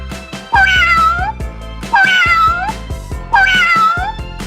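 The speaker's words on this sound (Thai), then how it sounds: "เสียงแมว" A cat meows three times, each call drawn-out and rising then falling, evenly spaced and loud, over a faint steady background with some light clicks.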